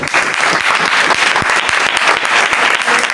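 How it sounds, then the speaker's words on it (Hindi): Loud, close applause from a church congregation during a sermon, a vigorous steady clatter of many hands with distinct individual claps punching through. "पहली बार खुदा के खादमों के लिए तालियां बजाएं।"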